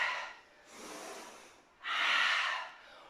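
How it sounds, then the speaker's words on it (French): Two strong breaths, an exhale then a louder push of air, from a person doing beginner HIIT squats at home, close and alone with no talk. "Inspire, expire."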